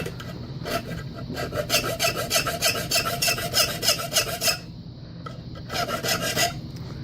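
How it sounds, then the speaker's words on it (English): A key blank is hand-filed with an angled file, giving rapid rhythmic rasping strokes in a steady back-and-forth run, pausing briefly before a final burst of strokes; close and clear with no talking. "I'm going to go ahead and go with my angled file"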